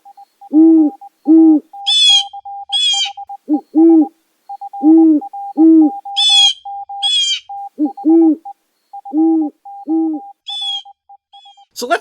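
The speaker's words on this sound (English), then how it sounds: "Burrowing owls are small, long-legged owls found throughout open landscapes of both North and South America." Burrowing owl hooting in a series of short, paired calls repeated at a steady rhythm, each followed by a brief, raspier chirp, loud and close with no talk.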